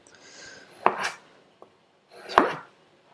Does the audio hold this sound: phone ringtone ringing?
no